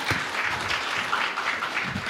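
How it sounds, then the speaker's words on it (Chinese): Audience applause at an evening Buddhist sutra teaching and Guanyin practice session, a steady, dense wash of clapping from a large crowd that fills the whole moment without any voices over it. "让我们以最热烈的掌声感恩师尊慈悲大家使我们每一位"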